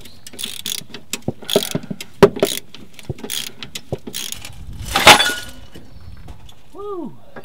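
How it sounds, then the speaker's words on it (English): A socket wrench loosens axle U-bolts on a vehicle at a salvage yard. Bursts of ratcheting clicks and metallic clanks come up close, with a sharp crack near the middle and a few squeaks toward the end. "I'll make sure they're broke free with the breaker bar here and then move over to the socket wrench."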